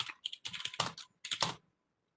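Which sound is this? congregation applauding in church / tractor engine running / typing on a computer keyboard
typing on a computer keyboard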